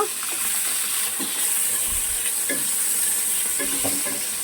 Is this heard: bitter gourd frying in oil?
yes